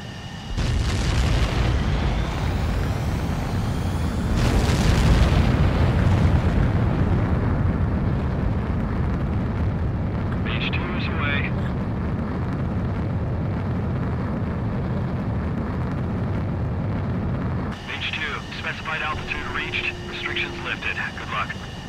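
Jet fighter takeoff in the video game Ace Combat 7, a loud roaring engine blast that swells then holds steady, with radio-style voices speaking over the rumble near the end.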